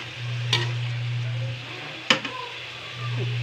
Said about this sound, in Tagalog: lagay na natin yung ating karne mga langga. Isa-gisahin lang natin yan.